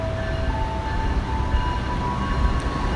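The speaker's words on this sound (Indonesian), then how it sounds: "KA Argo Semeru saat lagi akan masuk di stasiun Solo Balapan jalur 4." KA Argo Semeru passenger train, hauled by a CC 206 locomotive, rolls into Solo Balapan station on track 4, a steady rumbling roar of wheels and engine with faint tonal hums, continuous and fairly near.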